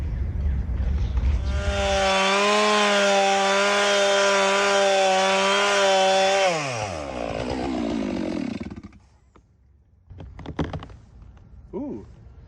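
A dull-bladed chainsaw cuts through a big white oak log salvaged after a tornado, its loud, steady high-pitched engine whine holding for several seconds before bogging down and trailing off, followed by a few brief knocks.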